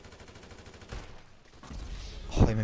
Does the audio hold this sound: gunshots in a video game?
yes